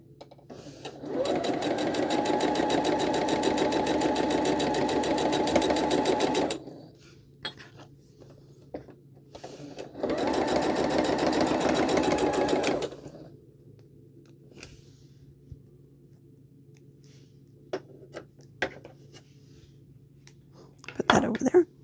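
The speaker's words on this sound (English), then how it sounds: "we're going to match these 2 corners. And we're going to sew those together." A sewing machine stitches quilt block pieces for an Heirloom Bloom block in two close, rapid runs of several seconds each, separated by quiet handling and faint soft speech.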